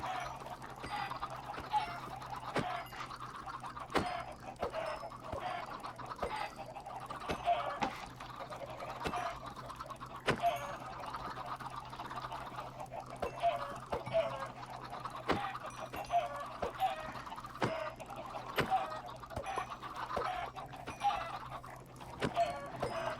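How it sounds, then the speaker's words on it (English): Chickens cluck in the Minecraft video game: repeated short clucks scattered steadily over a soft, constant background hum, close and moderately quiet, with no talk over them. "So many chickens."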